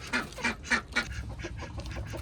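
Old free-range desi hens give a run of four loud, evenly spaced honking calls, then softer clucking continues close by with no talk.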